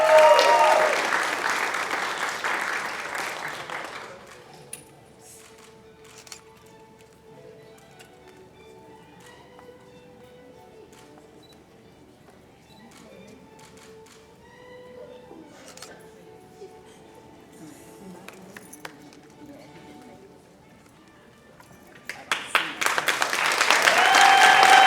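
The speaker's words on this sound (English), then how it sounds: "one more round of applause" Audience applause at the Cuyahoga Community College practical nursing pinning ceremony, 2016: a loud burst of clapping at the start fades into a long, quiet stretch, then a fresh wave of applause swells again at the end.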